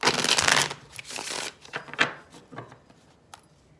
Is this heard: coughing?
no